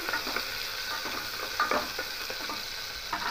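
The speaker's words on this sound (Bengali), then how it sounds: "দিয়ে একটু ভালো করে নেড়ে নেব" Continuous frying sizzle with soft scraping as food is stirred around a pan with a little oil.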